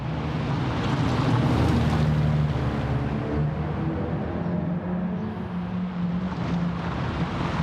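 Subaru WRX STI with a boxer engine in Gran Turismo Sport, a steady, loud engine drone that rises and falls slightly with throttle, heard close and continuous with no talk.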